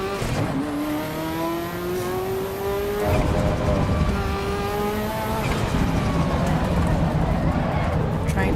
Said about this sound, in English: Yeah, the engine sounds nice.